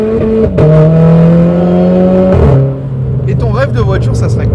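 A stage 2 tuned Renault Clio 4 RS Trophy revs hard nearby, its engine climbing in sharp, loud pulls with brief drops between bursts, ending in a falling, crackling note.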